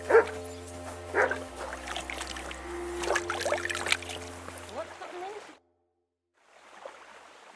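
A dog barks several times in the video game Kingdom Come: Deliverance 2, sharp close barks over game ambience and a low hum, followed by a brief silence and faint background sound.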